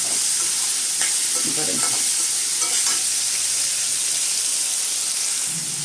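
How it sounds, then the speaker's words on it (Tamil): Beans and carrots sauté in a pan for semiya upma, giving a continuous bright sizzle and hiss with occasional stirring scrapes. A brief spoken word comes near the end. "இப்போது பீன்ஸு, கேரட்டு ரெண்டையுமே போட்டுட்டு நல்லா வதக்கி விடுங்க."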